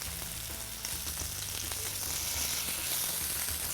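Potato pieces for a Spanish tortilla fry in olive oil with a loud, dense, continuous sizzle, close by and steady throughout, a faint low rumble beneath.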